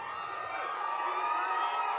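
A large crowd at a Sioux City political rally with AOC cheers and shouts continuously, a dense, loud roar of voices filling the space without pause.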